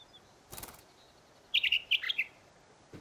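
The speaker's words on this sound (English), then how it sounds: "Bird." A bird chirps in the survival game The Forest, giving a brief cluster of sharp, bright tweets after a soft rustle. Quiet ambience surrounds the calls.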